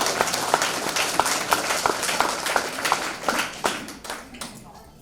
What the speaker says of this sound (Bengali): জোরে হাততালি